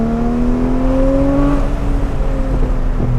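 A sports car engine revs hard just ahead, a rising whine climbing steadily, then easing off and building again, loud and continuous with no talking.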